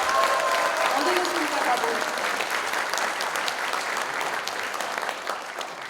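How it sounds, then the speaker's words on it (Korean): A crowd at a political party founding event applauds steadily throughout, loud sustained clapping that slowly tapers, while someone speaks briefly over it. "박수를 좀 부탁드리겠습니다"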